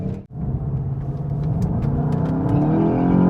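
Two hot hatches, a VW Golf 8 GTI and a Hyundai i30N, accelerate hard in a rolling drag race, one steady loud engine roar and rumble rising in pitch throughout, with no talk.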